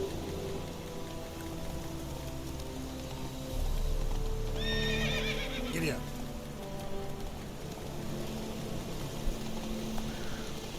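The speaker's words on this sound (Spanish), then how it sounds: "Puedo ir con el caballo." A horse ridden in The Witcher 3, with steady clip-clop hoofbeats and a loud whinny partway through, all under a constant hiss like rain.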